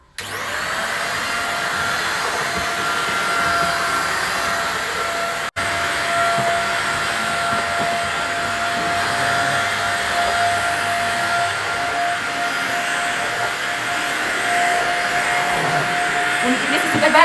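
A small household vacuum cleaner runs close by with a steady, loud whining hum, cutting out for an instant partway through before resuming and rising slightly toward the end.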